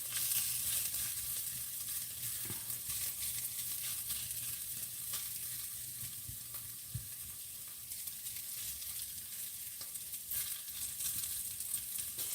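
Onions frying in a pan for walnut pomegranate chicken (Koreshi Fesenjan), a steady, close hiss of sizzling oil with occasional soft knocks of stirring.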